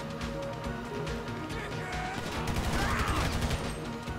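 Gunfire during a GTA Online heist raid on a lab, a steady loud clatter of overlapping shots and crashing impacts that swells near the end, with players' voices underneath.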